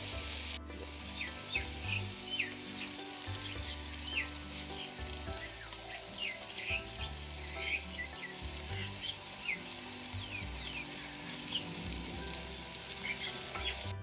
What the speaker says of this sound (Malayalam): നമ്മളിനി കുറച്ച് പച്ച വെളിച്ചെണ്ണ മേലേക്കിനി തൂവി ഒഴിച്ചു കൊടുക്കാൻ പോവുകയാണ്